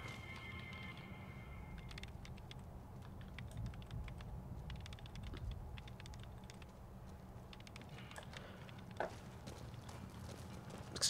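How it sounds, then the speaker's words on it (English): Rapid typing-like clicks from a man tapping in the air and clicking with his mouth in Fallout: New Vegas: a dense, steady patter of small clicks over low ambient game hum, with one sharper tap near the end. "a man in the back typing thin air with his fingers and making clicking noises with his mouth"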